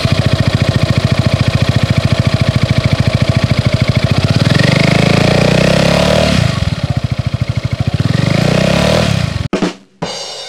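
A motorcycle fitted with a quiet exhaust idles with a fast, even putter, close and steady, before the engine note shifts and cuts off sharply near the end.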